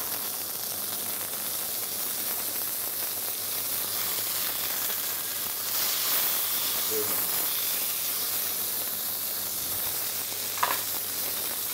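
Havelland Wagyu beef sears in a very hot pan, giving a steady, broad sizzle and hiss that continues throughout at moderate level, with no speech over it.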